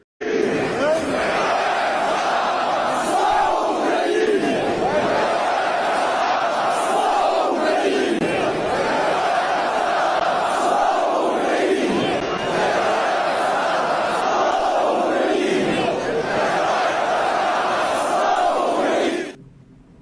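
At a soccer match, a large stadium crowd chants and roars continuously for about twenty seconds, a loud dense mass of voices that swells and falls in waves.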